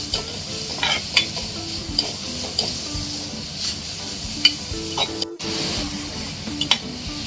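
Grated carrot is stirred in ghee in a hot pan, sizzling steadily up close while a utensil scrapes and taps the metal in irregular strokes, with one brief sharp clatter near the end.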